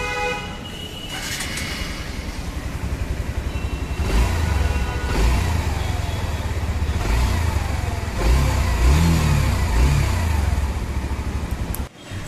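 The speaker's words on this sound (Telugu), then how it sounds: "okay finally listen to the exhaust note" A Hero Xtreme 160R motorcycle, fuel-injected, sits in neutral off its stand while its exhaust is revved, a steady loud idle rising into repeated throttle blips and surges before cutting off abruptly at the end.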